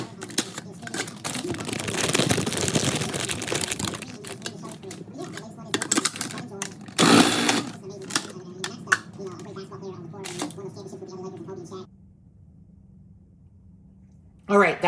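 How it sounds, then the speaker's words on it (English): Brussels sprouts are shaved for a roasted salad, giving repeated rough scraping and slicing rasps with a few sharp knocks, fairly close and steady, then a quieter stretch before a final clatter. "that's how we shaved our Brussels sprouts"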